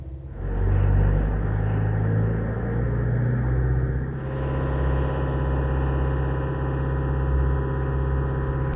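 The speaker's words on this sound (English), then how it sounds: "Going to neutral, I can bump up the RPM and this will rip up to about 15 kilowatts." VersaDrive hybrid boat engine revving in neutral to generate power, a steady close rumble that climbs in pitch and settles into a higher, harmonically rich drone partway through.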